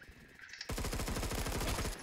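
Hipfire from an automatic weapon in Phantom Forces: a rapid, steady stream of shots rattling off for over a second, loud and close, after a quieter moment.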